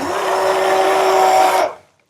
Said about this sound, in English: We're going to use our immersion blender.